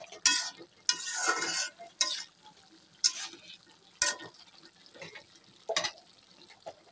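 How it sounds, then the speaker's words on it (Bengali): Chopped vegetables, including beans, are stir-fried in a pan for a rohu fish curry with tomato. A soft sizzle sits under repeated scraping strokes of a spatula that come in short, uneven bursts. "সবজিগুলো দেওয়ার পর সবজিগুলোকে কষিয়ে নিচ্ছি।"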